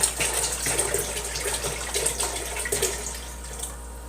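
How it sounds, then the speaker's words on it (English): Two gallons of water gush and splash steadily into a container, a continuous rushing pour with small fluctuations, close by and fairly loud, fading slightly near the end. "the first thing I do is I put my water in there"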